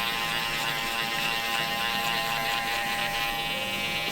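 An electric hair trimmer buzzes steadily and close throughout a skin fade haircut, a constant bright whine with no pauses.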